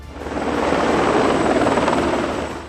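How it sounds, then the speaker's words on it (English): Three Sikorsky CH-53 helicopters fly over a wildfire in the Harz mountains near Brocken, Germany, shuttling water. A loud, steady rotor and engine roar swells in, holds, then eases slightly, with no voices. "3 Sikorsky CH-53 helicopters, along with other helicopters, made continuous flights between Konnersberg and Wormberg to collect water"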